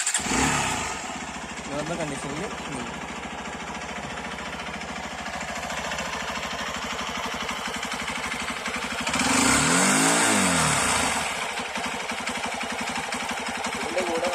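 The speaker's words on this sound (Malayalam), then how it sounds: "ആദ്യം എഞ്ചിന്റെ സൗണ്ട് നമുക്ക് നോക്കാം." A Hero Xpulse 200 BS6 motorcycle with 15,000 km on it idles with a steady, close low engine rumble throughout, briefly swelling around a mid-point rev, while someone talks over it.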